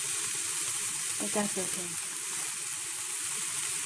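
Garlic sizzles in a hot pan for cauliflower fried rice, a dense, continuous frying hiss close by, with a brief clatter of stirring and a short spoken remark over it.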